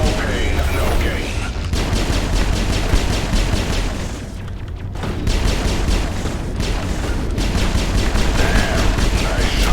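Bursts of rapid automatic gunfire rattle in the Mass Effect video game during a firefight, with dense repeated shots, brief pauses and booming impacts under a constant loud background.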